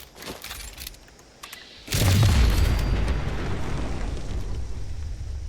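An explosion in the video game Fallout 76 lands as a sudden loud boom, following quieter scattered game sounds. A long rumbling tail stays heavy through the rest of the moment.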